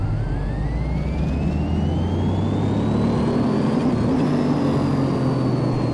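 Modified Corvette engine in the video game Car Mechanic Simulator 2018, a steady loud rev that climbs slowly in pitch with a whining tone, no talk over it.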